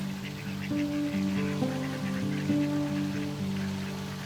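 Ducks quack and honk at a park pond, repeated nasal calls at moderate distance over steady outdoor ambience, with no talking.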